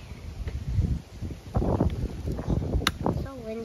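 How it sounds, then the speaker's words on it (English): Gusty wind buffets the microphone outdoors, with rumbling low noise and a person talking over it. "it's so windy outside."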